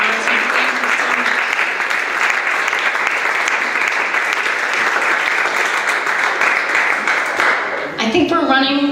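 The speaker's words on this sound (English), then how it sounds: "round of applause for everyone who's continuing to support entrepreneurship in KC and our team" An audience claps steadily for several seconds, then the applause cuts off and a voice begins speaking.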